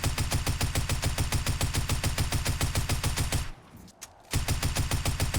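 A Tactical Assault Rifle in Fortnite fires long rapid automatic bursts, loud and close, with a short pause around a reload-like gap before the steady stream of shots resumes.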